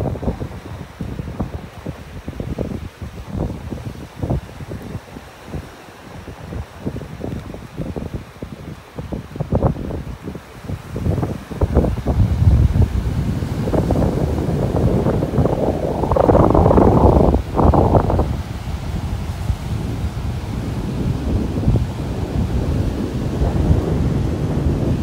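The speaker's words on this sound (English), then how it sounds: "Man, that wind is strong." Strong gusts buffet the microphone on a beach walk in North Naples, Florida, a loud rumbling roar with bursty low thumps that builds and stays heavy throughout, with no voices.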